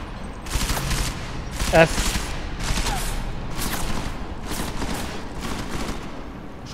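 Gunfire in the video game Deus Ex: Mankind Divided, a dense, continuous burst of rapid shots lasting several seconds, loud and close, with a brief voice mixed in.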